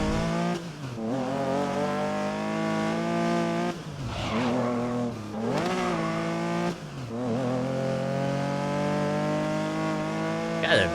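Tires squeal on racing cars in GRID (2019), the wails layered over loud, steady revving engines that rise and fall in pitch, with brief vocal sounds mixed in.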